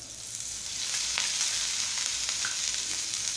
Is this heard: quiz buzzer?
no